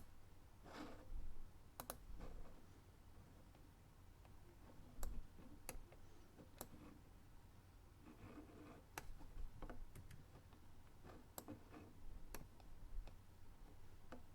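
Sharp mouse clicks in The Dark Mod editor, arriving one at a time at uneven intervals over a quiet room background, with no talking.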